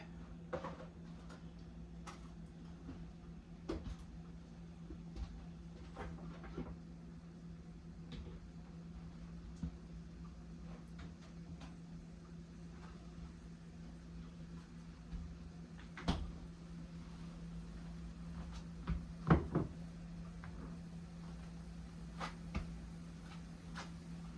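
Soft clunks and light knocks of a cupboard door closing amid quiet kitchen clatter over a steady low hum, with a couple of sharper bumps near the end.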